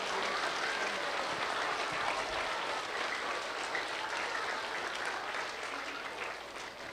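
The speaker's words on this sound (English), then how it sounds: "let's give them a round of applause for the important work they do" Elementary school students clap for their teachers in a classroom at Dunn Elementary, a dense, steady round of applause that holds at full strength for about seven seconds and eases only slightly near the end.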